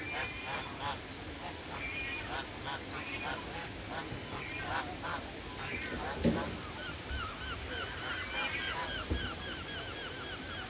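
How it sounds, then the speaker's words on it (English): Geese honk repeatedly in a busy outdoor scene at Dawlish Carnival beside a stream, with running water and voices mixed underneath; one louder call stands out midway. "Look at these geese."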